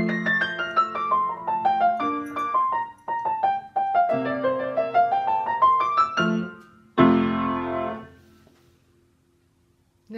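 Solo piano plays the ending of Burgmüller's Innocence, with even running sixteenth notes in a melodic line that rise and fall, closing on a loud, heavy final chord that rings out and fades into silence.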